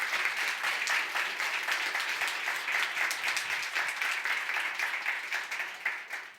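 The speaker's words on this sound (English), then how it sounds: "Round of applause for Lela." An audience gives a sustained round of applause at the end of a talk on table dressing, many hands clapping in a dense, even wash that carries on for several seconds and tails off slightly at the end.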